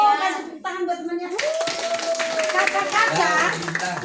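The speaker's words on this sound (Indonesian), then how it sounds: "Kasih tepuk tangan buat temannya" Scout children in a Pramuka Siaga session clap their hands together for a classmate, a brief burst of group clapping mixed with bright children's voices calling out, following an adult speaking.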